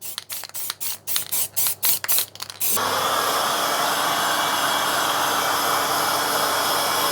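A Proton Satria gets its first coat of black paint. A few short spray-gun bursts hiss on and off, then give way to one long, loud, continuous spray close by.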